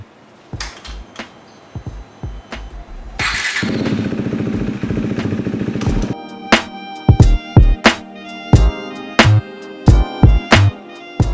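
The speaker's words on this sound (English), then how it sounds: "I'm just gonna let it run for like 5 minutes to let the lube or wax soak into the chain" A motorcycle engine runs close by with uneven thumps and clatter, holds a steadier drone for a few seconds, then gives way to a series of sharp knocks and bangs.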